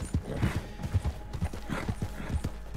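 Horse hooves clip-clopping in Red Dead Redemption, a steady, close, fairly loud run of hoofbeats at walking pace, with no talk over them.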